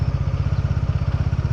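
A Bajaj Dominar 400 motorcycle engine idles up close, producing a loud, steady stream of rapid low thumping pulses in an even rhythm, with no voices.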